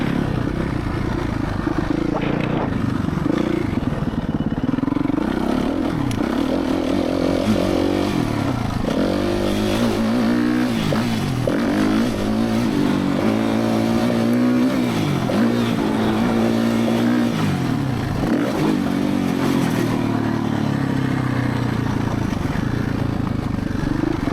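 A Suzuki RMZ450 dirt bike riding through soft, wet mud, its engine droning loud and continuous with rising and falling revs throughout.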